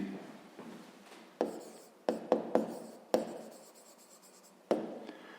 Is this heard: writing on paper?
yes